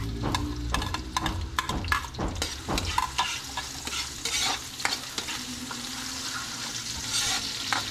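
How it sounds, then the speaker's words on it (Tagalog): Garlic and onion sautéing in hot oil, a close sizzle and crackle with a spatula stirring and scraping the pan in bursts early on, then a steadier fry. "Hintayin natin uminit yung mantika, tapos yan, lagay natin na yung bawang sibuyas."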